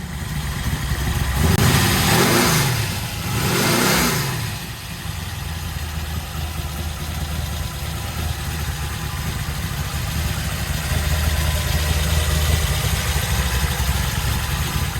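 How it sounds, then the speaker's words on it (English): The V8 engine of a 1940 Ford Deluxe gasser hot rod idles roughly and loudly after a cold start, with two swelling revs early on before settling into a steady, lumpy rumble. "Alright, we got a cold start and drive on our 1940s gasser."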